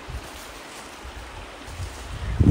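Water of a creek at a trail crossing on the Manistee River and North Country Trail loop, rushing steadily and close, with some low wind rumble and no talk.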